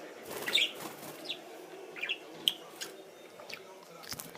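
A budgie flutters and lets out a few sharp chirps and squeaks in scattered bursts, with soft rustling and clicks between them, close by in a quiet room.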